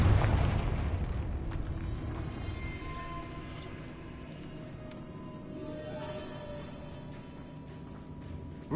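Confringo fire spell explosion in Hogwarts Legacy, a loud burst at the start decaying into a long rumbling roar with scattered crackles, no voices over it.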